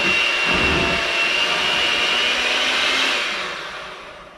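An electric mixer whips mashed potatoes with a loud, steady high-pitched motor whine close by, holding constant for several seconds before easing off slightly at the end.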